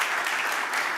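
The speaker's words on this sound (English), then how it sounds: "Let's give an applause to all the speakers of the session" Loud, dense applause from an economics conference audience for the session's speakers, a continuous wash of many hands clapping close by.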